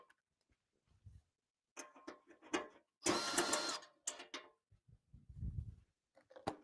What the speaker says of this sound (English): Then I'm going to just take the bolts out of the side.